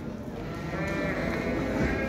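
Sheep bleat close by and in the distance at a busy livestock market for small animals, a continuous overlapping chorus of calls over a dense background murmur of the crowd.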